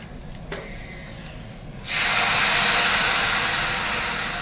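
Milk hitting a hot pan of red-fried vermicelli and raisins for payesh, a sudden loud rush of hissing sizzle after a quieter start, then a steady close steam hiss.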